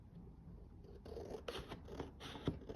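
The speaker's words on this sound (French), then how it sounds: "Vous tournez votre feuille. Vous découpez encore face à vous" Scissors snip through a sheet of paper being cut for a 30 by 30 box, a soft close rasping and crunching in short repeated strokes with no talking.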